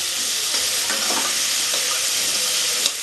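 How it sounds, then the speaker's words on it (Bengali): Potatoes frying in hot oil sizzle loudly and continuously, up close, with a few soft stirring scrapes through the crackle and no one talking. "আলুটাও লাল লাল করে ভেজে নেবো"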